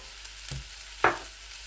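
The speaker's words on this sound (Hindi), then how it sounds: "5 मिनट के लिए अच्छे से फ्राई कर लेना है।" Carrots, green onion, mushrooms and capsicum fry in a pan with a steady soft sizzle, broken by a couple of brief stirring scrapes.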